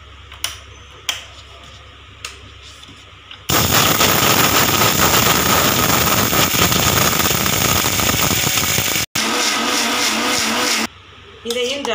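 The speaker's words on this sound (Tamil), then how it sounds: "மசாலையை மிக்சியில் போட்டு அரைச்சிடலாம். நல்லா அரைக்கணும்." A kitchen mixer grinder grinds masala for mutton curry, starting after a few light taps and clicks into a loud, steady whirring roar, cutting out briefly, restarting, then stopping while softer kitchen sounds continue.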